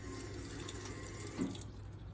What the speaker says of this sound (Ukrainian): Тобто піднесли, вода пішла.